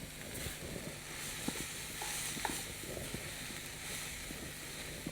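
Sesame seeds roasting in a pan are stirred, giving a steady dry hiss with scattered scraping clicks and small knocks throughout, close and fairly quiet, with no talk.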